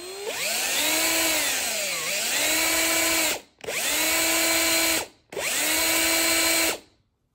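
A power drill whines against a tough lightsaber part. There are three loud bursts, the first with the motor speed dipping and rising, then two steady runs cut off by brief silences.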